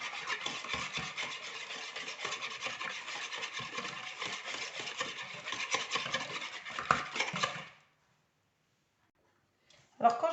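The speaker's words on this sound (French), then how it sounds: "alors là je vais mélanger tous les ingrédients" Algerian cigar pastry filling with egg being mixed by hand in a bowl, giving a steady scraping, rubbing stir for several seconds before it stops, then one brief clatter at the end.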